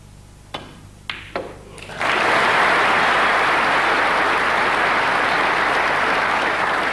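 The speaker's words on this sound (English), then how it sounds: "Round of applause for Stephen" Audience at the 1992 World Snooker Championship final applauding Stephen, a few sharp isolated claps at first, then a full, loud, sustained wave of clapping that carries steadily to the end without talk.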